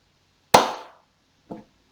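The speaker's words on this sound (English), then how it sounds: "I clap one time." A single sharp hand clap, loud and close in a quiet room, with a short decaying ring, followed a second later by a fainter second knock.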